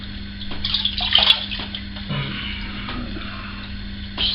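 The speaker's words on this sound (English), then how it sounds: "Slight rinse." Water runs and splashes while a brush or razor is rinsed during a wet shave, a soft steady trickle with a few brief drips and clinks nearby, alone with no talk.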